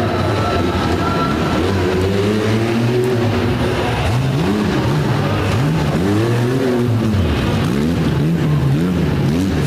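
A modified monster truck's engine roars at the DuQuoin mod truck show in Illinois, loud and close, revving and surging in repeated rising and falling waves as the truck runs over tabletop jumps.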